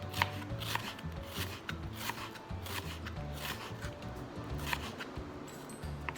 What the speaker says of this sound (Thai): แล้วก็หั่นหอม บางๆค่ะ